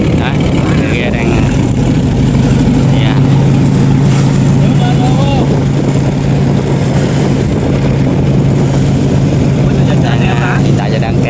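A boat's engine drones steadily and loudly at sea while the anchor is hauled up, with voices speaking over the constant motor hum.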